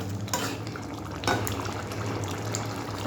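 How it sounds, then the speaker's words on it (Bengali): Curry simmering in a pot after garam masala is added, with a steady low bubbling and faint clinks of utensils against the pan, heard close up without talk. "টকবক করে ফুটে উঠবে"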